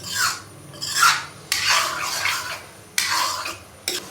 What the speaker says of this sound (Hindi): अभी दाल माश को हाई फ्लेम पे तकरीबन 3 से 4 मिनट के लिए भून लेंगे